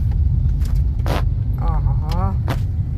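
Heavy road traffic in Rajkot heard from inside or beside a car, a constant loud engine and road rumble beneath several short bursts of people talking.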